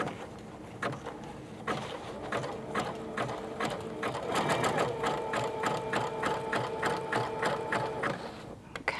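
A sewing machine stitches fabric in rapid rhythmic bursts, running steadily with short pauses, close and clear with no talking.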